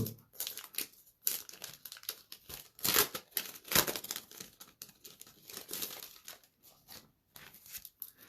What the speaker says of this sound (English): This is platinum silver foil transfer sheets